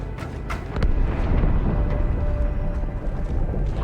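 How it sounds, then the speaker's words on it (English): A big explosion in the video game Halo 2 Anniversary sets off a loud, sustained rumbling roar that swells after a couple of sharp cracks and holds steady, dense and booming, with no talking. "That explosion came from inside the Athens, same as the Malta."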